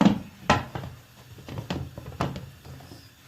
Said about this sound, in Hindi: अब हम इसको ढक्कन दे देंगे।